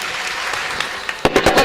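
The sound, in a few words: audience applause at a kirtan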